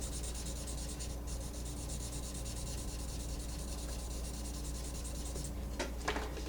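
A pencil shades a realistic drawing of teeth on paper, making a close, steady scratchy rubbing that runs almost without a break and pauses only briefly twice.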